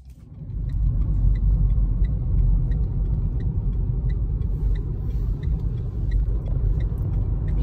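A car drives along a road, its steady low engine and tyre rumble filling the interior from start to end with faint ticking above, no voices.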